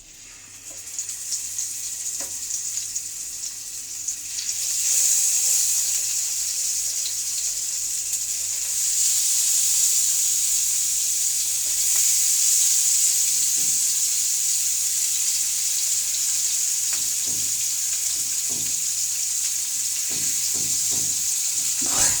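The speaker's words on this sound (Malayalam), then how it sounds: "നല്ല ചൂടായ കാരണം എണ്ണ ചൂടായിട്ടുണ്ട്. നമുക്ക് ഇത് ഓരോന്നിട്ട് കൊടുക്കാം." Loud, steady sizzle of stuffed mackerel frying in hot oil, a dense continuous crackle that swells after a few seconds, with occasional light clicks and taps near the end.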